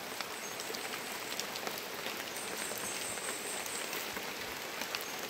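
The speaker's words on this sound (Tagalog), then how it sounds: "Naulan pa." Steady rain falling on surfaces outdoors, a dense continuous hiss of drops at even loudness with no voices.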